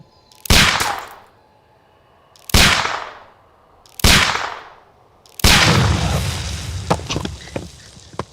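Pistol shots in the Sherlock Holmes: Crimes & Punishments video game, fired at a dynamite package: three sharp loud cracks spaced about a second and a half apart, then a longer, heavier blast with rattling debris trailing off.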